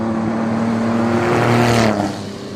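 A struggling race car engine at the Simola hillclimb drones loudly and close, swelling slightly before dropping off abruptly near the end, with no talking.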